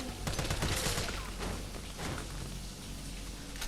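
Rapid gunfire from a zombie-shooting sequence in the video game Resident Evil 3 Remake, a dense burst of repeated shots that is loudest near the start and then continues steadily at lower intensity.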